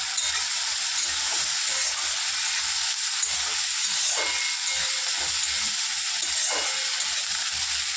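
Ginger and chopped tomato frying in a pan, a steady bright sizzle and hiss with faint low knocks of stirring underneath, continuous throughout.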